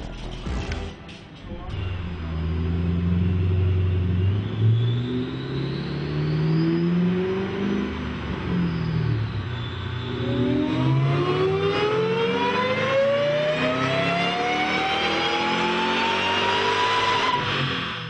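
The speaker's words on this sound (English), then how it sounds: "Next up is a SuperSnake and its fine supercharger whine." A Shelby Super Snake's supercharged engine revs on a dyno, a loud rising roar climbing through the gears with a high supercharger whine sweeping upward above the exhaust note.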